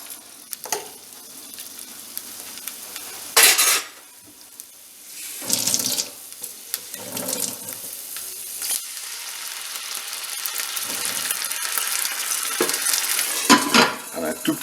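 Whole white asparagus cooking gently in a pan with a little oil, salt and a splash of water, giving a steady close sizzle and hiss with a few louder bursts of spluttering and stirring.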